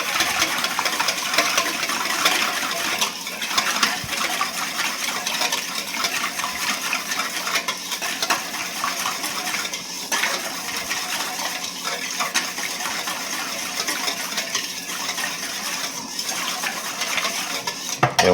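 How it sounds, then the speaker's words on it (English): Metal whisk clinking steadily against a bowl while beating dark sesame oil into a slaw dressing, a close, continuous rapid scraping and tapping rhythm for the whole stretch. "And just give it a whisk."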